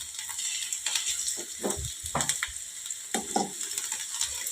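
Ginger-garlic paste fries in oil while a spoon stirs and scrapes it around the pan, giving a steady close sizzle broken by irregular scraping strokes, with no voices.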